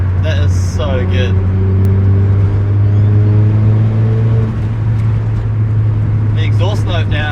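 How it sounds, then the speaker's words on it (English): A Mitsubishi Lancer with a 4G93 SOHC turbo engine, custom manifold and new turbo drones with a deep, steady exhaust note while driving, rising briefly in pitch, as people talk excitedly over it. "Exhaust note now is just so much, it's so much deeper."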